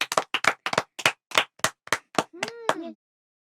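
Classroom clapping: a series of about ten sharp, evenly spaced hand claps from a group, fairly close, ending with a brief cheer from children's voices.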